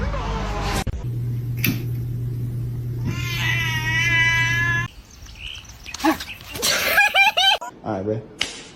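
Pet cat meowing indoors, several drawn-out, wavering meows close to the microphone, mixed with a sustained hum, a sharp slap and brief laughter in between.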